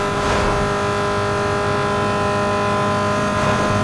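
Car engine held at full throttle in the racing game Need for Speed Underground 2, a loud sustained drone with no gear shifts, continuous and close throughout.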